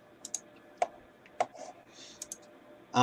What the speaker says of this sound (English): making a note about my super loud keyboard